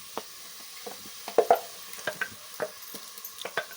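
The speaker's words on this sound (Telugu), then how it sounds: "పేస్ట్ అంతా వేసి ఒకసారి బాగా తిప్పుకోవాలి" Mutton is stirred with ground masala paste in a pan for a village-style curry: quiet, close scrapes and soft wet clicks come at irregular intervals over a low background sizzle.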